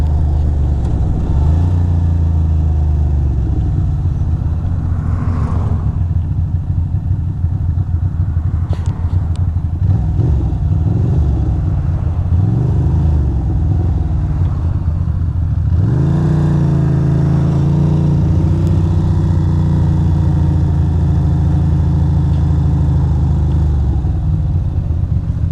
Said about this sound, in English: I guess we gotta wait for these cars